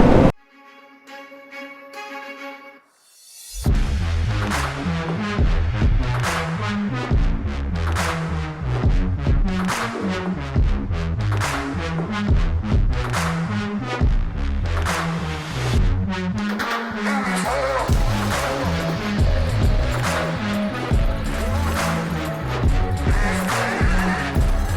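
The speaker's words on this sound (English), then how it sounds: "today I am riding the Kawasaki Z650 RS" A 2022 Kawasaki Z650 RS retro motorcycle out on a ride, its engine note steady and loud after a brief quiet start, with repeated rising revs and gear changes running throughout.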